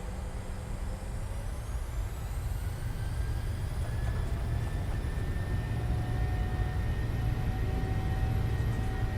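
Twin jet engines of a PMDG 737-700 in Microsoft Flight Simulator spooling up to takeoff thrust, a steady loud roar with rising whining tones building continuously.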